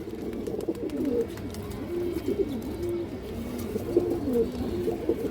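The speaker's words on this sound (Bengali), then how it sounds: "ব্রাডল্যান্ডের একটা মাদি কবুতর অনেক সুন্দর একটা মাদি" A female pigeon coos repeatedly at close range, soft low rolling calls in a loose rhythm over faint background rustling, with no speech.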